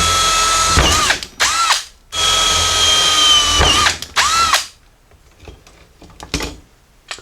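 Power drill working on the window frame of a Jeep J10, with several whirring bursts of drilling separated by short pauses, close and loud, then quieter clicks and handling noise toward the end.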